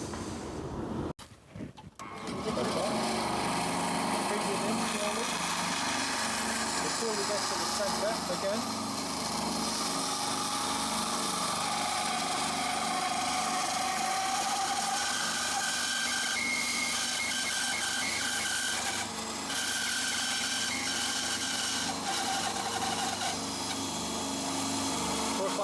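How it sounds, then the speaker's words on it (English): Bandsaw running steadily while cutting a circle from a wood board on a jig, a constant close mechanical drone with the blade pitch shifting as the board turns, faint talk underneath. "then we take it over to the bandsaw"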